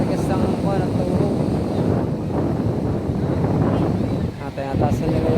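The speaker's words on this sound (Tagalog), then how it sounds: "Lakas ang hangin." Strong wind ahead of an approaching typhoon on a coast with boats, a steady roaring gust buffeting the microphone with a faint wash of waves beneath it.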